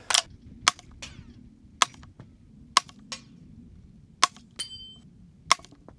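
.22 rifle fired through a Lone Wolf Arms Eliminator22 suppressor with Federal 45 grain suppressor ammunition: sharp, clipped cracks at irregular intervals of about a second, each followed by a faint metallic clink in quiet surroundings, with no talk.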